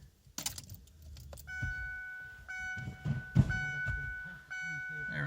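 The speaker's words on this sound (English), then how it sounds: "bang the keys in." Car keys jangle and rattle as they are pushed into the ignition of a 2002 Ford Focus LR, with a few clicks and thunks followed by steady electronic warning tones from the dashboard.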